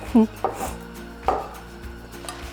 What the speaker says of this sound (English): I'm also going to add in all of our diced potatoes